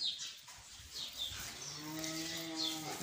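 An imported Holstein cow moos on a farm, one long harmonic call rising near the end over faint background noise.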